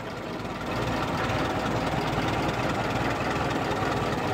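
A brass-era Ford Model T engine idles nearby, a steady, rough mid-low rumble that holds evenly after a brief quieter start.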